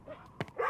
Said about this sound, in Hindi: गली के कुत्ते उन पर भौंक रहे थे।